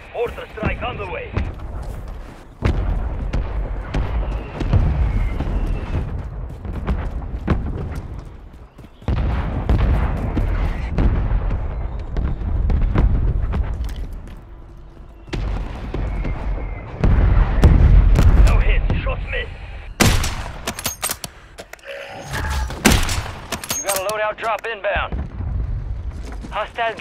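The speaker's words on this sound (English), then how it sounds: "Mortar strike on the way." Mortar strike explosions in Call of Duty Warzone on PS5 arrive as heavy, repeated booms and rumbling blasts with sharp cracks over nearly half a minute, loud and dense, under game voice lines.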